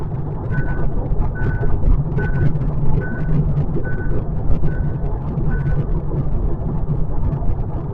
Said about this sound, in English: Every now and then it will give you a warning to keep the hands on the wheel.